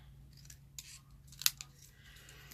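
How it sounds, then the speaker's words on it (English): Scissors trimming the top edge of planner paper: a few soft snipping cuts, with one crisp, louder snip in the middle, close up against a faint low background hum. "I'm going to trim it a little wee bit because it's a tad too long for me."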